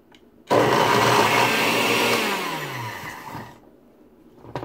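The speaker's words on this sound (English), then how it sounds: "So our blender is not strong enough to do it" A kitchen blender chopping omelette ingredients roars on for about three seconds, loud and close, its motor pitch sagging as it labours before winding down to a quieter whir.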